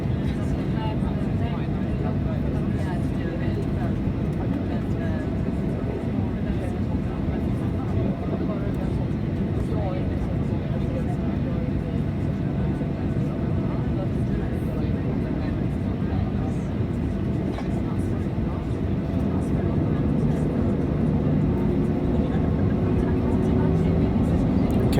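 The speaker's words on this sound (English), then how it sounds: "Okay, increasing power, so we're leaving our parking position." A Ryanair Boeing 737-800 throttles up its engines to roll out of its parking position, a loud, steady cabin roar with engine hum that swells slightly toward the end, and a voice talking over it.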